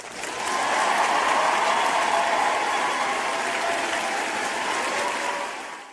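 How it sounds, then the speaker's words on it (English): An audience at a live show breaks into a full round of applause, swelling quickly and holding loud and even before cutting off at the end. "Round of applause for you"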